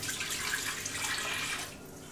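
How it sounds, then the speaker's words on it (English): Water is poured from a tap into an Instant Pot holding sausage and potatoes, a steady close splashing stream for about two seconds that eases off near the end. "Add the water."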